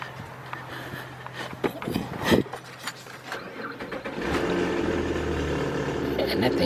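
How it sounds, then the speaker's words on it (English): A 2004 Nissan Quest with a 3.5 engine runs noisily nearby, its steady mechanical drone rising louder in the second half, with a voice talking over it early on. "that thing got a noisy engine too"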